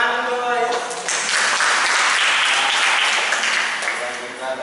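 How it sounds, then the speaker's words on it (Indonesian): Classroom audience in an Indonesian teacher-training session breaking into applause, a dense burst of clapping that swells and holds for several seconds, with a voice speaking briefly at the start. "Tepuk tangan untuk saya."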